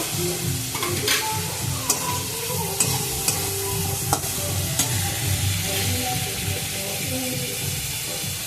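A tomato drops into a hot pan of Bengali vegetarian mochar ghonto (banana blossom curry), and a steady sizzle of frying runs throughout with light stirring scrapes and occasional clinks, close and continuous.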